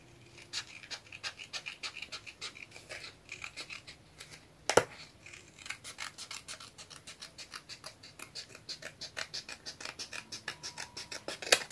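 Scissors cutting paper for a shabby-style card, a close run of rapid rhythmic snipping and rustling strokes with one sharp loud click partway through.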